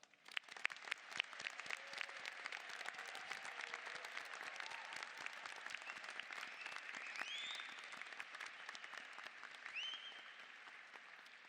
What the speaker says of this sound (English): please help me in congratulating them with our applause.